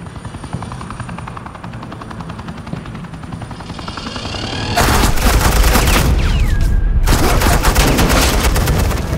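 A helicopter drones steadily before heavy suppressing gunfire erupts in Batman: The Enemy Within, a loud continuous barrage that cuts out briefly and resumes.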